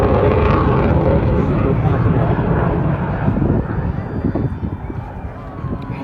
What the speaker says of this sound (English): the F-16 Knife Edge pass